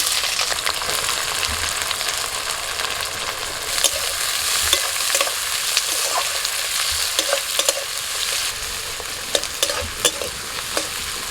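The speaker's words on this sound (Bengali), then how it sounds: "ফোড়নটা ভাজা হলে দিয়ে দিচ্ছি পেঁয়াজ কুচি।" Chopped onion fries in hot mustard oil with dried red chillies, cardamom, cinnamon and cloves, giving a continuous loud sizzle broken by scattered scrapes and clicks from a stirring spoon.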